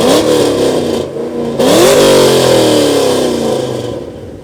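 An F-body car with a modified exhaust revs hard at an exhaust competition, the loud engine climbing in pitch, dropping briefly, then surging again and slowly winding down, close and alone without talk.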